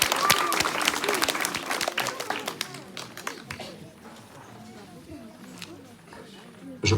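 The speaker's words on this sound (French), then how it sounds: "On l'applaudit bien fort, génial." Audience at a hypnosis stage show clapping, starting as dense, close applause that thins out to scattered claps, with voices over it.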